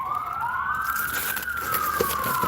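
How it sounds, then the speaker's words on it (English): An emergency siren wails outside in a single slow rising-and-falling sweep, clear but somewhat distant, over a faint background hum. "I think the sirens are going"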